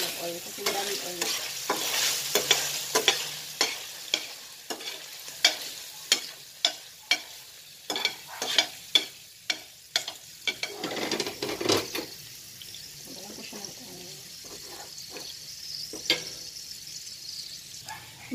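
Minced beef fries in oil in a pan while a utensil stirs it, giving a steady close sizzle broken by repeated sharp scrapes and clinks against the pan.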